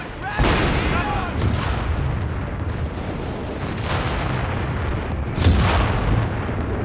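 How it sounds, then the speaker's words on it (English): Artillery bombardment in Company of Heroes 3 multiplayer, heavy booming blasts at roughly one, 1.4 and 5.5 seconds over a constant rumble of battle and gunfire, loud and near. "They're bombing me to hell, boys."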